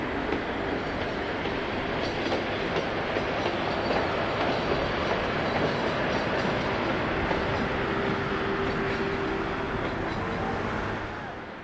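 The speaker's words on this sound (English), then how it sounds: "Shortly after, the locomotive is seen departing with a westbound freight bound for Lens." An SNCF BB12000 electric locomotive heads off near Lille with a westbound freight train bound for Lens. A loud, steady rolling rumble with faint wheel clatter continues throughout and eases slightly at the end, with no talking.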